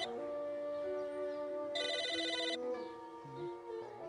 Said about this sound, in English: It's like in the movies, you pick up the phone.